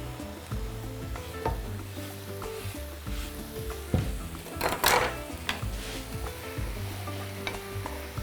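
Chopped mushroom caps and stems fry in a pan with a continuous sizzle, broken by stirring scrapes and a louder clatter of utensils partway through, with no speech.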